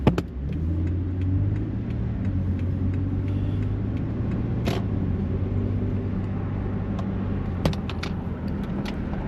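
A Metro bus drives with a steady low engine rumble and road noise, with a few sharp knocks and rattles near the start and around the middle, and no talking.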